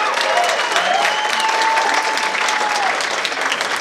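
A convention panel audience erupts in loud, sustained applause mixed with cheers and whoops from a large crowd, steady throughout with no pause.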